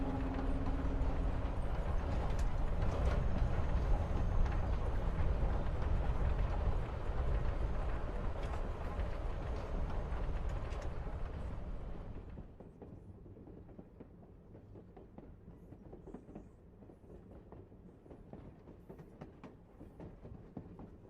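A train from the video game Life Is Strange rides along the rails with a steady low rumble and clatter that fades to a quieter rattling drone partway through.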